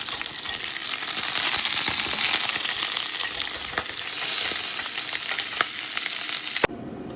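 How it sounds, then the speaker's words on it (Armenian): Pork sizzles and fries hard in a hot pan, a loud continuous crackle with scattered sharp pops and occasional stirring clatter, cutting out abruptly at the end. "Այսպես տապակում են"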